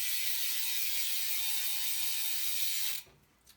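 Primo VSXL Plus cassette rear hub on a custom BMX bike freewheeling with a fast, steady ratchet buzz of tightly packed clicks for about three seconds, then cutting off abruptly into near silence.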